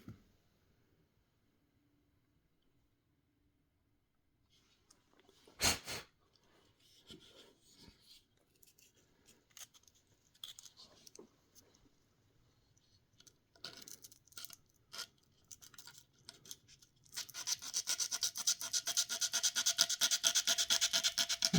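Close, scratchy rasping on a Buck/Phrobis M9 sheath stone being roughened during replacement. Quiet at first, with one sharp knock, the scraping then builds into a loud, continuous rasp in the closing seconds.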